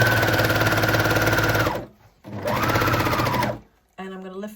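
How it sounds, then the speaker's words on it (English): Overlocker sewing machine stitching dress fabric, a fast loud whirring run, a short pause, a second run that stops, then a softer brief burst; a voice talks over part of it. "We are going to overlock in here between these clips."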